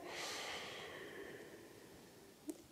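A single long exhale during a qigong exercise, a soft breathy rush that starts strong and fades over about two seconds, close and quiet, followed by a faint brief click.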